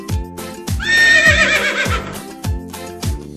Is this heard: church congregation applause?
no